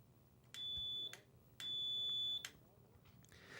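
An electric tip-up alarm for ice fishing sounds two steady, high-pitched electronic tones, a short one and then a longer one, separated by clicks and handling knocks. It is close and fairly quiet, with no talking.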